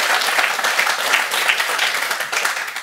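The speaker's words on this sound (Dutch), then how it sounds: "Applaus, dat mag best hoor." An audience at the closing evening of the Roparun 2023 gives sustained, dense applause that continues steadily the whole time.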